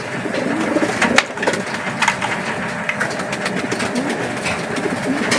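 Pigeons coo softly amid a busy, rustling backdrop, with scattered taps and fluttering nearby.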